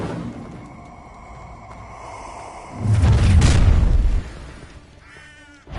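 An Incendio fire spell erupts in Hogwarts Legacy as a heavy, rumbling fiery blast that swells loud for about a second over low background ambience, then cuts off.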